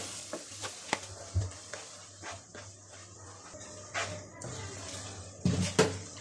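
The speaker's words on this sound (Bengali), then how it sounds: "পেঁয়াজটা ভাজা হয়ে গেছে, নদিনের আব্বুই নাড়তেছে।" A spoon stirs fried onion in a pan on a home stove, scraping and clinking in uneven bursts with soft sizzling underneath, plus scattered knocks and faint background voices.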